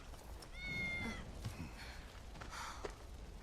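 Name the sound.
cat meowing in a Final Fantasy VII video game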